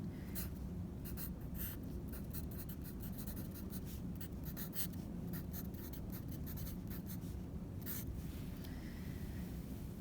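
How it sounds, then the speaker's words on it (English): Pen or pencil scratching steadily across paper while a calculus limit problem is worked out by hand, a close, continuous run of writing strokes with short pauses and no talk. "if you want to write it down as I'm writing it down"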